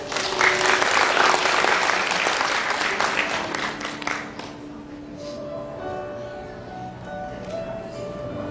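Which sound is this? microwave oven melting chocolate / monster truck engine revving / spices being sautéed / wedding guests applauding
wedding guests applauding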